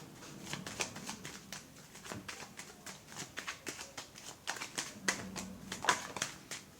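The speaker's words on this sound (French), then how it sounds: "On va recouvrir toutes les cartes hein" Tarot cards are gathered and shuffled by hand, making a quick, quiet run of soft slaps and flicks in an uneven rhythm, close and alone.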